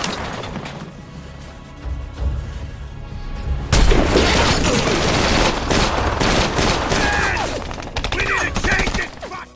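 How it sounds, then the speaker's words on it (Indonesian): Gunfire in a war film battle, with dense rapid bursts and heavy shots that grow much louder partway through, mixed with crashes and booms; brief voices sound early on. "Di tengah peperangan, Sana berhasil menembak lengan seorang sniper wanita dari pihak musuh"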